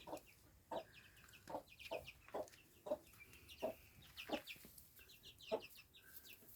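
A broody hen clucks in short, regular bursts about once a second, with faint high peeps from chicks in between, quiet and close, on litter in a henhouse.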